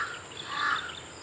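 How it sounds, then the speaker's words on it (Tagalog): Crows caw from a large acacia tree on a cattle farm, a brief, faint, harsh rasping call heard from a distance against quiet outdoor background. "pag ganyang magulo yung mga uwak, so may inaakay po yung bagong inakay."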